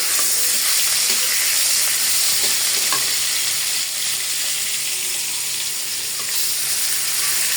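Pangas fish frying in oil in a pan on a gas stove makes a loud, constant sizzling hiss that runs unbroken the whole time, close up and alone.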